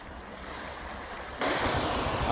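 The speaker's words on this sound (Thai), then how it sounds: "ลมจะแรงนิดนึงนะครับ" Strong wind gusts at a seaside beach on the Thai coast, a steady rushing blow that grows suddenly louder and brighter partway through, with surf noise mixed in and no talking.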